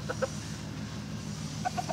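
Chicken clucking softly in short clustered bursts at the start and end, close and fairly quiet over a steady low background hum; a chick recovering from a digestive problem on a small farm.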